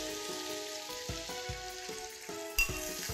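Soft tofu, bacon and shiitake mushrooms sizzle loudly in a hot pan as plain water is poured in, a steady crackling hiss with a sharp surge of spitting near the end and faint tonal background underneath.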